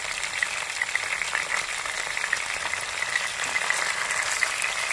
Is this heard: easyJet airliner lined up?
no